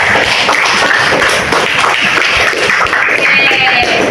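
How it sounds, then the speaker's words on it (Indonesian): Students in a classroom clap their hands together, producing a dense, loud, sustained patter of many hands at close range with no talk over it. "tepuk tangan dulu buat teman-teman"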